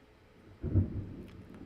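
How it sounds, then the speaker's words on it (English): A single low rumble of thunder from a nearby storm outside, rising quickly and fading over about a second, faint and muffled, with no talking. "I don't know if you're able to hear the thunder and lightning going, or the thunder going on outside."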